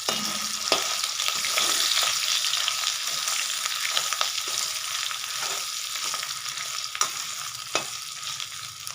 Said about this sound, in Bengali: এবার সয়াবিন সব দেবো না, অল্প অল্প করে ভেজে নেব